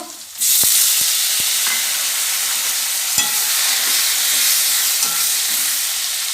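Tomatoes hit a hot pan of fried potatoes for a cabbage curry, setting off a sudden loud burst of sizzling that settles into a steady, close hiss with occasional scraping clicks of a spatula.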